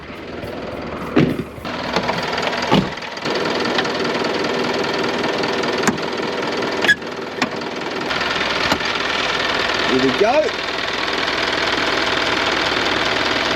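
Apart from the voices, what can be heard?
6 ton truck engine running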